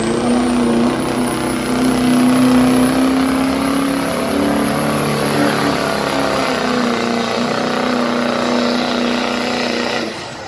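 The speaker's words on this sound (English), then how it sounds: "Brian Miller from Canis, Ohio, 2002 GMC with the Duramax on board." Loud, sustained roar of a 2002 GMC truck with a Duramax diesel engine pulling a sled at a fair truck pull, droning steadily for about ten seconds with a high whine above, no clear talk.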